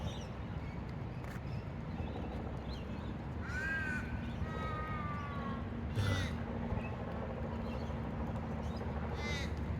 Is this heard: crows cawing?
yes